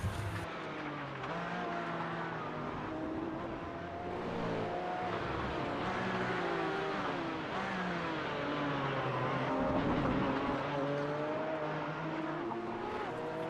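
A pack of GT4 race cars in the iRacing game at VIR on a wet track, engines droning and shifting in overlapping pitches as the cars accelerate together, steady and mid-level throughout.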